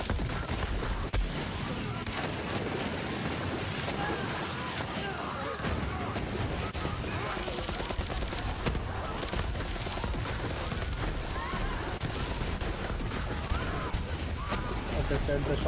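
Rapid, powerful shotgun fire in Borderlands 3 during the Slaughter Shaft round 5 arena, with dense, nonstop blasts and explosions merging into a loud, continuous roar while someone talks over it.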